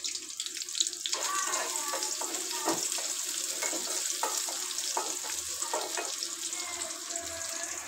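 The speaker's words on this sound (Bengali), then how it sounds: "একটু শুকনো মরিচ পেঁয়াজ দিয়ে দিব।" Dried chillies and onion fry in a wok, making a continuous bright sizzling hiss with intermittent stirring clatter and faint scraping, fairly close and moderately loud.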